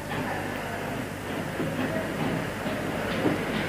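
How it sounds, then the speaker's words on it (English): A model railway train runs steadily on a layout, a continuous rumbling rattle of wheels on track with faint clicking, fairly close and uninterrupted with no talking. "And here is a fresh loco for the return journey."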